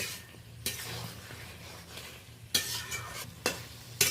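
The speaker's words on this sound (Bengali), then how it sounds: "মশলার সাথে ভেজে রাখা পটল আলু বেশ ভালো করে একটু নেড়ে নেব" Fried pointed gourd and potato pieces are stirred through spice paste in a hot pan, with scraping spoon strokes over a soft, steady sizzle; the scrapes come in a few louder bursts.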